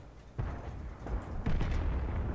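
Tank cannon fire in the video game World of Tanks, a couple of muffled booming shots among rumbling battle noise, heard alone without talk.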